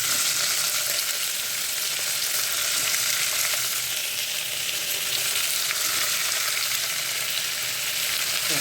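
Curry leaves and chopped bottle gourd frying in hot oil in a pan, a loud, steady, close sizzle with a hissing crackle that holds level throughout, no voices over it.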